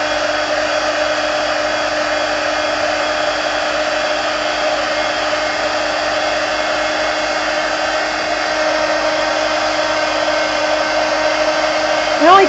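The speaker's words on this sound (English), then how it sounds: "I'm gonna just dry what I have here with the heat gun" A heat gun blows steadily over a mixed media collage on a craft table, a continuous loud whirring hiss with a faint whine that holds for the whole stretch.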